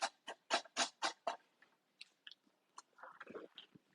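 Raw celery is bitten and chewed up close, a rapid run of loud wet crunches at first, then softer, scattered chewing clicks as the bites break down.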